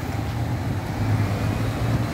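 Steady low rumble of idling and slow-moving cars stuck in a traffic jam on Sovetskaya Street in Syktyvkar, a continuous hum of engines with no distinct pass-bys.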